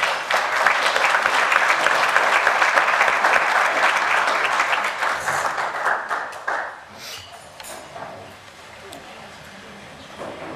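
Audience applause fills a bowling hall of fame dinner, with dense, loud clapping across the room for several seconds before it thins out and fades near the end.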